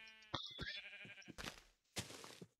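Sheep in Minecraft bleat a few times in short, close, wavering calls, with brief pauses between them.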